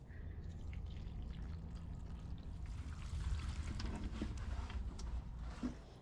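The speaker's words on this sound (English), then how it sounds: "we'll water our boxwoods" Water from a hose pours steadily onto boxwood plants in a greenhouse, a continuous close trickling and splashing with faint dripping, no talking.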